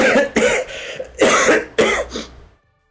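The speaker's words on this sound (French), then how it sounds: "vous allez m'entendre tousser plusieurs fois dans la soirée" A series of about five harsh, close coughs in quick bursts, ending in silence.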